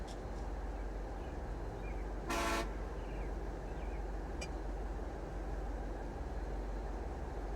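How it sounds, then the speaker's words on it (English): A tugboat's horn sounds in a truck driving game set in Oregon, one short loud honk about half a second long standing out over a steady engine and traffic drone, with a faint second blip shortly after. "Honk your horn like you're important"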